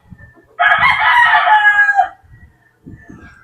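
A dressed gamefowl bullstag rooster at a game farm gives one full, loud crow lasting about a second and a half, with faint scratching and farm noise before and after.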